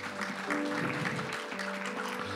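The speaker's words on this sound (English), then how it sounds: "So can y'all just give him a round of applause?" Church congregation applauding during a sermon, a steady wash of clapping with a low hum and steady tones underneath, moderately loud throughout.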